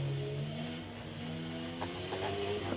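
A Formula 1 car in the F1 22 racing game accelerates after braking into a corner, its engine tone climbing steadily in pitch as it pulls away, a continuous loud drone with no talk.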